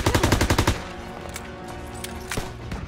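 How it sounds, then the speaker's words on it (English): Machine gun suppressive fire in the World War II video game Call of Duty WWII, a rapid burst of about a dozen loud close shots in quick rhythm, then a ringing tail with distant scattered gunfire. "Suppressive fire!"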